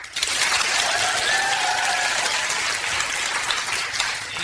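An audience applauding to vote for the Contrarian Party, a loud, dense hiss of many hands clapping at once that holds steady for the whole stretch with no talking over it.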